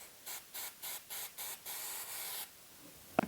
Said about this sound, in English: I take my activator and I spray it on this side